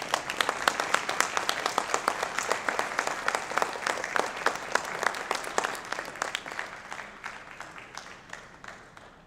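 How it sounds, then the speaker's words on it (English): Audience applause at a People's Party of Canada event, with sharp, distinct hand claps that start fairly loud, keep a steady pace and thin out toward the end. "let's have a warm revision round of applause for Vaccine Choice Canada's Mr. Ted Kuntz."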